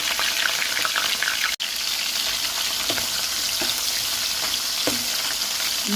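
Dried fish frying in a hot pan give a steady, dense sizzle that runs the whole way through, with a few soft scrapes of stirring and one brief cut-out partway through.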